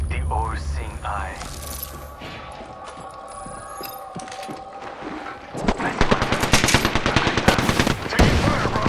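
Apex Legends gunfire in a War Games match on Nintendo Switch: after quieter in-game voices and clatter, a loud sustained automatic burst of rapid shots takes over the second half.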